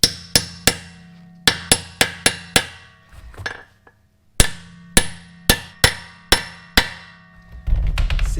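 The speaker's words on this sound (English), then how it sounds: "we're just going to pound these on and then take them off with the impact gun" A hammer pounds sockets onto a car's lug nuts in a series of loud, ringing metallic strikes, some in quick runs and others spaced apart, with a short pause partway through and a rougher mechanical noise at the end.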